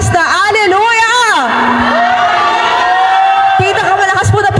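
A church congregation shouts Hallelujah loudly in praise, a roaring crowd of cheering and whooping voices that swells and holds, sounding loud and close.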